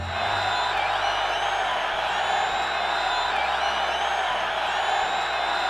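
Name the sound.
short looped crowd cheering in Mario & Sonic Olympic Winter Games video game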